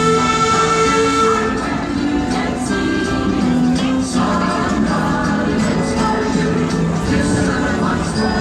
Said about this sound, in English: this is the blue train heading to New France train station.